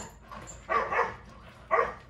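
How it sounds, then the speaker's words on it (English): A neighbor's dog barks in two short bursts, moderately loud and somewhat distant, outdoors near a home. "The neighbor's dog does not get along with Odin"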